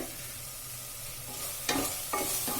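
Coriander powder and turmeric fry in a pan for a pea and potato curry, a steady close sizzle with a few sharp scrapes from stirring toward the end.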